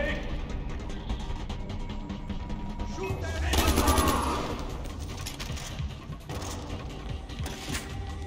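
Rapid gunfire from the video game Far Cry 4 crackles in fast bursts, swelling to a louder flurry midway, with a person talking over the shooting.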